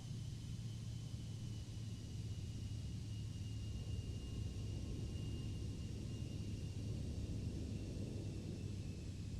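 Personal jet rolling onto the runway after a crosswind landing in a flight simulator, a steady low engine rumble and airy whine holding at an even, moderate level with no talking.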